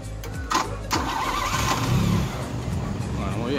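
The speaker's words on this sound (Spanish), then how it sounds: "Siempre la prueba de fuego es hacer arrancar el auto desde afuera sin pisar el acelerador ni nada de eso." A Fiat 128 with a 1100 engine cranks and starts outdoors after a spark plug change, the starter churning briefly before the motor catches and settles into a steady running rumble, with a voice speaking near the car.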